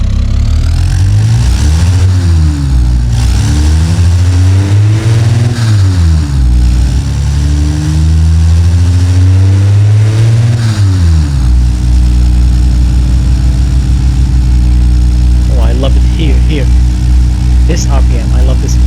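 An inline car engine in the Automation driving simulator runs at low RPM, revving up and down several times in smooth swells before settling into a steady, loud idle hum.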